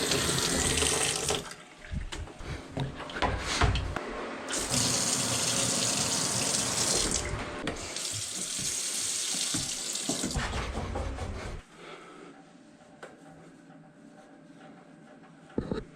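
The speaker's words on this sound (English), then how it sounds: "let's turn the water back on, see what's going on." Water rushes strongly through household plumbing after the supply is turned back on during a pipe repair, a steady loud gush with brief breaks, then a quieter trickle near the end.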